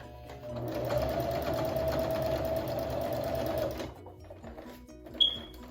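A sewing machine back-stitches a basted V-neck in one steady, close, whirring burst of about three seconds, then stops, followed by a short high click.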